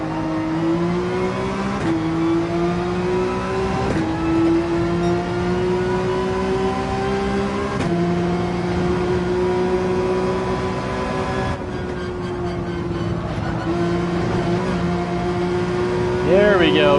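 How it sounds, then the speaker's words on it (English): A Porsche 911 engine in Gran Turismo 7 at the Dragon Trail circuit revs hard and steadily through the gears, its pitch climbing and then dropping at each of several shifts. It is loud and continuous throughout. "rev out 4th in the Porsche 911"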